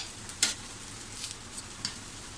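Freshly grated wet coconut hitting onions frying in a pan, a soft steady sizzle with a few sharp crackles and pops, close and quiet with no talking.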